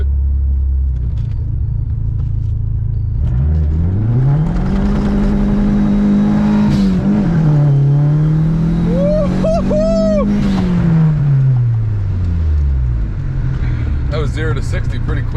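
A clapped-out Dodge SRT-4 accelerating hard from a standstill to 60, engine rising loud through the gears with a brief shift dip, turbo whistles and chirps, then easing off as it slows, with people talking inside the car.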